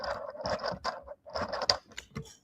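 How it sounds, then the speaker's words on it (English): Crank on the back of a LEGO washing machine set turning plastic gears and bevel gears, giving a run of close, small clicking and ratcheting bursts with brief pauses. "when I spin the crank at the back, it spins the washing machines"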